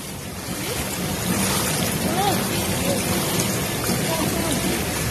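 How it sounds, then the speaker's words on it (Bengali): Rain falling at a beach, a dense steady hiss of drops mixed with surf wash, fairly loud and continuous, with faint indistinct voices in the background. "বৃষ্টি আসছে,"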